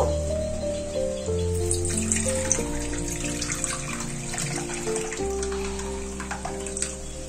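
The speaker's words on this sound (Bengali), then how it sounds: "এই জলটা এই বাটির মধ্যে একটু ঢেলে নেব।" Water is poured from a vessel into a bowl while cooking ghugni, a steady close pour with light splashing and no talk.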